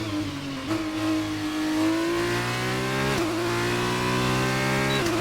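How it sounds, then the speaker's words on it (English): Classic Formula 1 car engine in the F1 2019 racing game, revving loudly and continuously with rising pitch through gear changes, with a brief dip and shift around the middle and no talk over it. "The engine sounds a hell of a lot different too, obviously."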